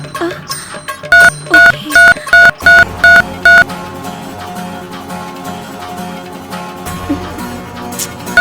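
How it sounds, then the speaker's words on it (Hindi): A rapid run of seven electronic phone-dialing beeps, evenly spaced and clear, followed by a steady background hum and faint room noise. "अब मैं अभी उनको फोन करता हूँ।"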